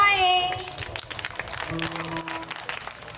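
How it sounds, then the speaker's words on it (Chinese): An audience applauds with a soft, scattered patter of clapping, overlapping a voice and a few sustained musical tones at the start. "大家掌声欢迎。"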